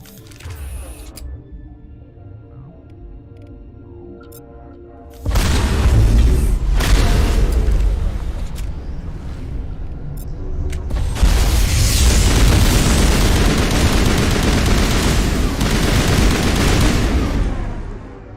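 Heavy gunfire and booming blasts from a Mass Effect firefight, quiet at first, then a sustained loud barrage of shots and explosions that builds and continues to the end.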